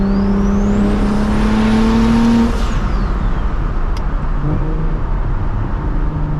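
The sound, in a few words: car passing by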